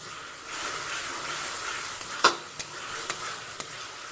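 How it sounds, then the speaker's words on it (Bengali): Kashmiri chili powder is stirred through hot oil for a thin fish curry. A faint, even sizzle carries a few light clicks and taps of a spoon against the pan. "কাশ্মীরি পাউডারটা দিয়ে বেশ ভালো করে কিন্তু নাড়াচাড়া করে নিতে হবে"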